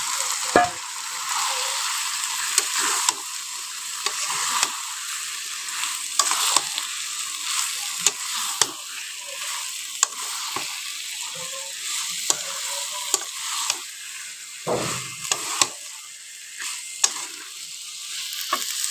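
Meat sizzles steadily in a hot pan in a Bengali village kitchen, with frequent scraping stirs of a spatula breaking through the continuous frying hiss; no talking.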